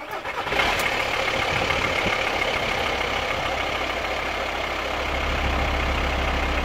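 A VW T5 van's diesel engine cranks and catches with a sharp burst, then settles into a loud, steady rumbling idle that continues to the end.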